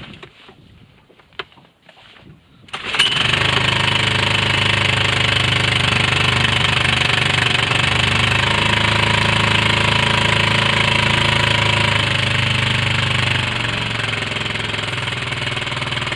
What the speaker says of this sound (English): it's cold, so I'm gonna give it some choke